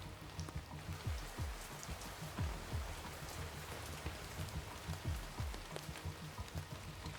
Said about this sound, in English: let the rain settle in